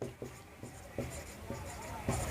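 A pen writes during a Hindi-language grammar class, making a quick series of close, crisp scratching strokes in an even rhythm, with a voice speaking faintly underneath.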